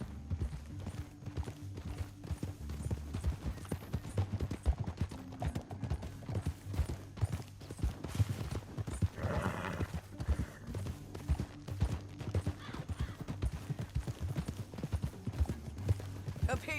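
Horse hooves clip-clop steadily across the whole stretch in Red Dead Redemption 2, a continuous rhythmic trot or gallop close by, with a low engine-like drone and occasional voices beneath.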